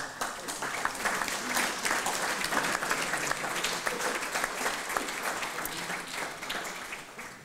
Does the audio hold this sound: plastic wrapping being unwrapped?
no